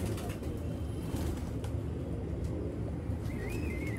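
Old-breed pigeons cooing in a loft with soft low throaty coos repeating under a steady background rumble of traffic; no one speaks.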